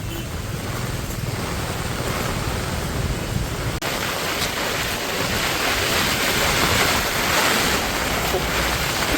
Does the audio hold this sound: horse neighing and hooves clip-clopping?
no